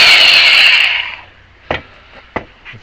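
A hand saw cutting small wooden actuator pieces held in a vise, a close rasping stroke that fades out after about a second, followed by two sharp isolated knocks.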